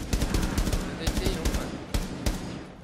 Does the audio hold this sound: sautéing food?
no